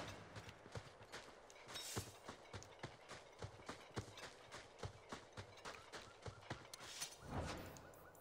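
Horse hooves clip-clop in a steady walking rhythm, each footfall a sharp distinct knock, in the Dragon Age video game, with a swell of other noise near the end and no talking.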